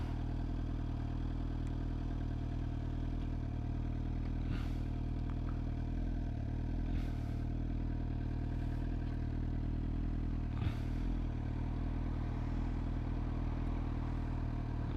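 A 2025 Suzuki GSX-R 750 motorcycle idles and creeps through slow-speed maneuvers, its engine a steady low droning rumble with slight throttle swells and a few faint clatters, no voices.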